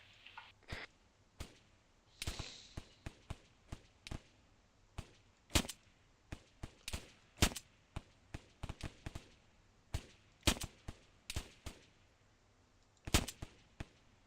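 Pistols fire at a shooting qualification range, sharp distant cracks arriving singly and in quick irregular bursts over a quiet background.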